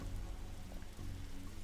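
Steady rain in the point-and-click video game The Darkside Detective, a constant dense hiss with a low background hum and no breaks, heard on its own.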